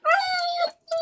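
A dog whines in two drawn-out, high moaning cries close by indoors, the second briefer after a short pause.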